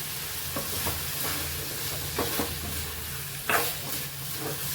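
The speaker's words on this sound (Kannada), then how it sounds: "ಈಗೊಂದು 5 ನಿಮಿಷ ಆದ್ಮೇಲೆ ನೋಡ್ರಿ ಪಲ್ಯ ಕುದ್ದೈತ್ರಿ" Dill leaf palya (sabbasige soppu) bubbling in a pan, giving a steady soft sizzle and hiss with a few faint stirring scrapes, alone and fairly quiet.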